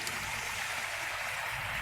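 Steady, soft rush of flowing water in Starfield, continuous and even throughout with no breaks or voices.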